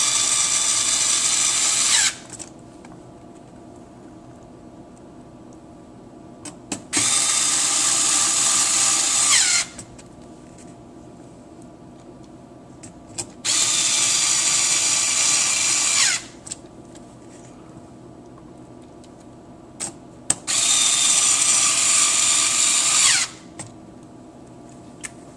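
Four screws are driven down into a PS3 board with a powered screwdriver: four separate whirring bursts of about three seconds each, evenly spaced with quiet gaps between, loud and close.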